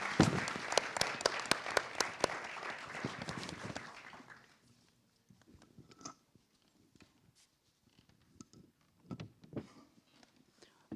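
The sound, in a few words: audience applause for Robson Miguel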